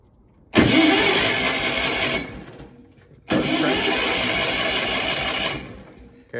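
Miller Bobcat 225G welder engine cranked from jumper cables and a spare battery with the fuel hose pulled off, giving two loud, steady starter-cranking bursts of about two seconds each, separated by a short pause, without firing.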